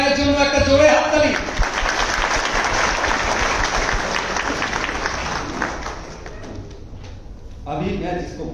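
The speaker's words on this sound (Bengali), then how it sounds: "তো মিস্টার কাশীনাথ গায়েনের জন্য একটা জোরে হাততালি" An audience applauds loudly for Mr. Kashinath Gayen at an event. A dense, sustained burst of many hands clapping fills several seconds and then thins out. A voice is heard speaking briefly at the start and again at the end.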